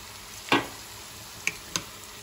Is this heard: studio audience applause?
no